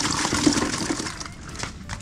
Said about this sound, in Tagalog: tatapon mo yung tubig?